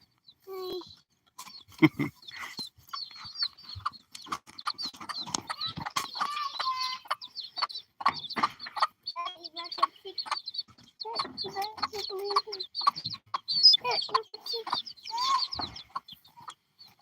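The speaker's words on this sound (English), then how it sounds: "the chicks seem to be growing pretty good" Young chicks cheep and cluck nearby in a rapid, busy stream of high chirps, with scattered soft voices and small knocks in the background.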